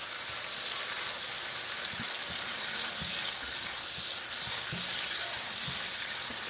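Minced garlic frying in a hot pan on a stove for beef and broccoli, a steady dense sizzle with occasional soft clicks of stirring, no talking.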